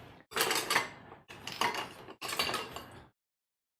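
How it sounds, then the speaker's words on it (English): A whisk beats okonomiyaki sauce in a bowl in three quick bursts of rapid scraping and clinking, separated by short pauses and followed by silence. "I'm just gonna whisk it."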